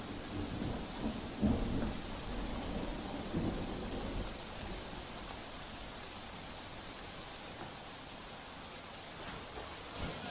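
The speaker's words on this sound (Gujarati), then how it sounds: "સુરત શહેરમાં વહેલી સવારથી જે રીતે વરસાદ વરસી રહ્યો છે" Heavy early-morning monsoon rain pours down over a waterlogged Surat street, a steady dense roar with rumbles of thunder, loudest in the first few seconds.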